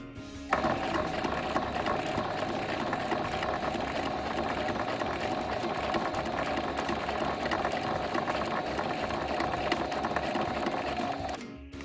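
A sewing machine stitches a fabric coaster along a flower-shaped line, running in one steady, loud, whirring stretch for about eleven seconds, close up with no talk.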